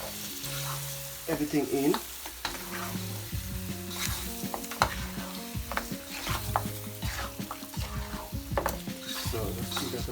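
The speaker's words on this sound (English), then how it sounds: "Just going to chuck in that goat. Give it a nice little stir." Goat meat with ginger, garlic and pimento sizzles in a hot pot while a spoon scrapes and stirs against the metal in uneven strokes, and a voice speaks briefly over the frying.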